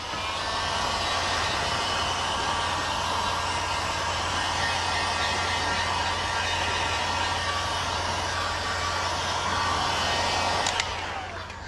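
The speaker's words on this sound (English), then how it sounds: "If you guys are trying to use a heat gun to dry plastic like that" A heat gun runs continuously, giving a steady, loud blowing whir while drying window tint film on a 2018 Chevy Equinox.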